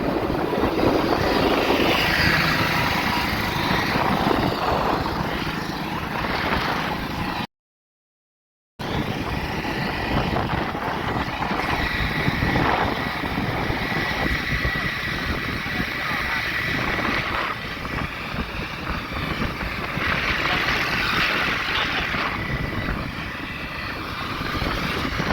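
A motorbike rides along a highway with a steady, loud engine drone and wind rush that continues without letup, broken only by one brief gap of silence.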